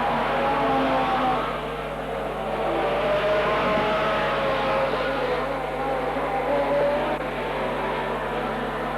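Race car engine from a 1996/97 Super 4 Victorian title meeting at Wangaratta, with standard saloons and modified production cars, roaring loud and steady down the back straight, a sustained drone with a slight dip and swell, under commentary.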